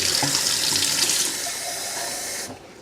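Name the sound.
tap water running from a faucet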